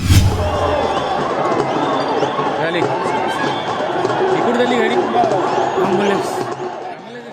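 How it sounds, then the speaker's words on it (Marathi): A huge crowd of Maratha protesters gathered around a stuck ambulance in Navi Mumbai, a dense hubbub of many voices with shouts and cheers rising and falling throughout. "लाखो माणसांची गर्दी असूनही मराठा बांधव सामाजिक भान विसरले नाहीत"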